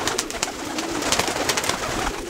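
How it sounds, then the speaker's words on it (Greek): Feather-footed pigeons burst out of a coop with sharp, repeated wing claps and flutters close by, overlapping in quick irregular bursts with soft cooing beneath. "Ψιλοπόδαρα περιστέρια."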